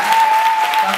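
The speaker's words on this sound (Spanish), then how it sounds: "Un aplauso, por favor, para la profesora" Applause for a teacher at a dance school event, steady dense clapping from a crowd filling the moment, with a faint steady tone running underneath.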